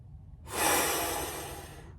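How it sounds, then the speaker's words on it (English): A single long, deep breath drawn close up, a steady airy rush rising after a brief pause and holding for over a second before easing off. "you just have to take a really long, deep breath"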